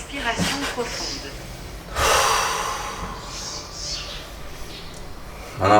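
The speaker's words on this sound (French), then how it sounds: "Respiration profonde." Deep breathing during a yoga rest between bench cobra stretches: a few slow, audible inhales and exhales with soft snorting and gasping breaths, close to the microphone and alone.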